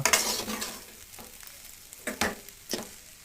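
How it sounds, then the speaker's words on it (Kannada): Soaked poha being stirred into a hot tempering in a pan for avalakki chitranna, with a few distinct scraping strokes over a light, close sizzle. "ನೀಟಾಗಿ ಮಿಕ್ಸ್ ಮಾಡಿಕೊಂಡು ನೆನೆಸಿಟ್ಟನ್ನ ಅವಲಕ್ಕಿನ ಈಗ ಒಗ್ಗರಣೆಯಲ್ಲಿ ಸೇರಿಸ್ಕೊಂಡು ಮತ್ತೆ ನೀಟಾಗಿ ಮಿಕ್ಸ್ ಮಾಡ್ಕೊಳ್ಳೋಣ"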